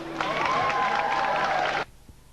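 Audience applause at a 1993 Miss beauty pageant as an award is presented, a short burst of clapping that cuts off abruptly after under two seconds.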